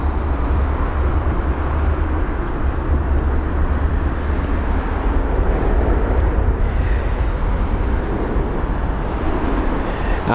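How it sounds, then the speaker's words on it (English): A British Airways Boeing 787 is moved around on the ground at London Heathrow, giving a steady, loud low rumble of engine and ground noise that holds evenly throughout without a break. "The BA 787 just being moved around"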